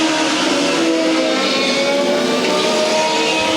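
INEX Legends race cars roar steadily around the track at Evans Mills Motorsports Park during a feature race, a loud continuous engine drone from several cars with no break.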